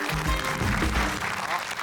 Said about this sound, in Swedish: En stor applåd! Stor applåd!